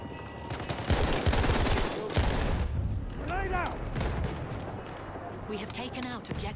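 Loud bursts of rifle and machine-gun fire from Battlefield One boom through the first seconds, followed by scattered distant shots and rumbling battle noise while a player talks over the action.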